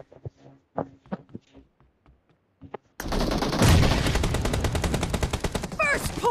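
PUBG Mobile team deathmatch gunfire: a few scattered, separate shots at first, then after a short gap a loud, sustained automatic burst of rapid rhythmic firing with metallic game effects.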